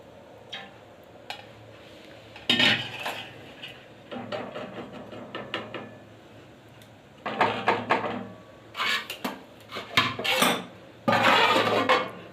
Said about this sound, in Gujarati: હા, બીજી ડીશ મૂકશું